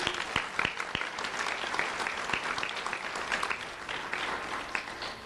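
An audience claps at a school award ceremony run by the Lee County Sheriff's Office, a full, close patter of hands with a few sharp individual claps standing out, steady throughout.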